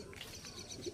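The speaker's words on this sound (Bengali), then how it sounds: "বন্ধুরা দেখুন পায়রা দেখুন, চারটে কালা সবুজ একসঙ্গে আছে।" Pigeons, including Kala Sabuj birds, cooing faintly in a loft, a soft low murmur with a brief coo near the end.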